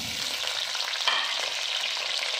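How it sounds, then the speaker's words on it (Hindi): Chicken for biryani fries in a hot pan with a loud, dense sizzling hiss, joined by brief stirring scrapes and a quick spatter burst. "अब इसमें चिकन को डाल देना है"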